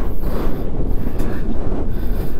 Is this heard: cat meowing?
no